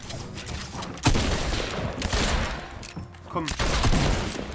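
Rapid gunfire from a video game weapon thought to be a shotgun, with several loud sharp blasts and bursts over game noise, while someone talks over it.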